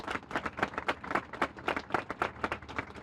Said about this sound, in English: Please a nice round of applause for Jeff